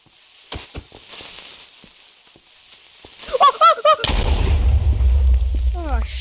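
A creeper explodes in the Minecraft video game, a sudden loud crackling blast with a sustained low rumble after a quick run of chirpy game effects and scattered clicks.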